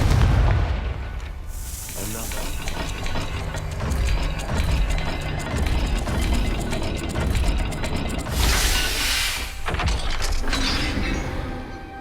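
A Confringo blasting spell in the video game Hogwarts Legacy bursts with booming explosive impacts and crackling mechanical clatter over a loud, dense game soundtrack, with a bright burst near the start and another around the eighth second.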